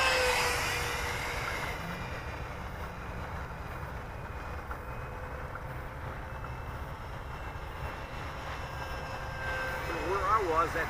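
A Freewing F9 Panther RC jet sweeps past on a low-speed, low pass during a morning flight, its steady ducted-fan whine holding fairly even and swelling slightly near the end, with voices talking over it.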